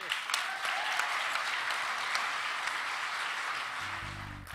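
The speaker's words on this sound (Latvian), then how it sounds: "Te rakstīts aplausi neapklust" Sustained audience applause at a Latvian stage show, a loud, dense wash of many hands clapping that keeps going without letup, slowly easing off at the very end.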